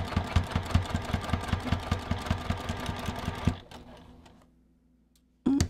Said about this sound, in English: I'm just going to pull those pins out and sew right over the top